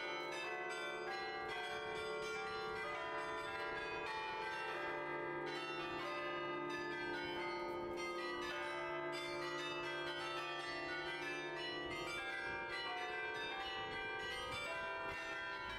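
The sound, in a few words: Belfry tower bell ringing at 10 am in Bruges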